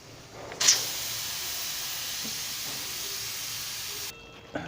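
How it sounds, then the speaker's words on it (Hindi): Steam bursts from a pressure cooker full of cooked pumpkin as the pressure is let down: a sudden loud hiss that settles into a steady, even rush for about three seconds before cutting off abruptly. "अभी मैं प्रेशर कुकर का जो ढक्कन उठाऊंगा, पहले मैं इसको स्टीम हल्की कर लूँ पहले"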